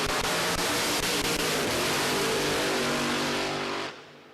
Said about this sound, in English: Jeff and the Sergeant Roofer Camaro getting into stage.